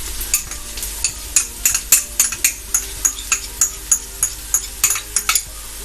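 Garlic being stirred into softened onions frying in a pan for Kochi-style pork vindaloo, a steady sizzle broken by a regular run of sharp utensil scrapes and stirs, close and fairly loud, with no voices.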